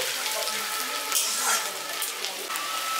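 Onion lightly frying in a pan for a village-style paneer and green peas pulao: a steady, close, hissing sizzle that runs evenly throughout with small crackles.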